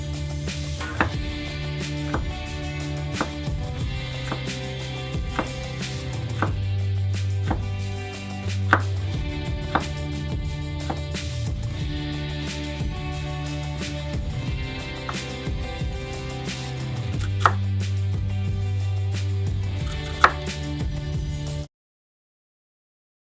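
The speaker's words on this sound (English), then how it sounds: "All right, so we got our onions sliced up, nice and thin, somewhere around 1/8 of an inch." A knife slices onions and jalapeños on a board for refrigerator pickles, making a long run of close, crisp chopping taps in an uneven rhythm with occasional louder knocks, then silence at the end.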